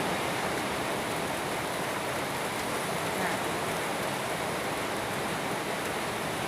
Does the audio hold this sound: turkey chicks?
no